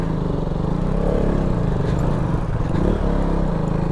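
A motorcycle rides along a slippery village road, its engine giving a steady, close, continuous drone with some rattling clatter over the whole stretch and no talk.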